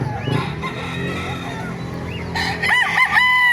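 Roosters crow and chickens cluck at a busy, noisy chicken market in Bocaue, Bulacan, with a loud, clear crow rising near the end.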